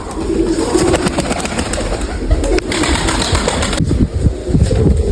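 Pigeons coo steadily and close by, their soft throaty calls overlapping in a continuous murmur with a few faint wing flutters.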